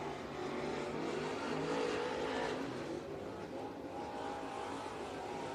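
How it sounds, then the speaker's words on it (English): A race car engine accelerates off turn four at Senoia Raceway, Georgia, during a crate engine race, a loud sustained roar with shifting engine pitch, with other cars running nearby. "Off of turn number 4, first lap for Oxenford."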